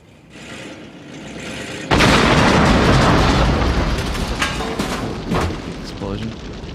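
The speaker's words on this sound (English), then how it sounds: "Explosion. Car blew up." A car blowing up: a sudden, loud, close explosion bursts in after a quieter stretch, then a long roaring rumble and crackle that slowly fades, with faint voices under it.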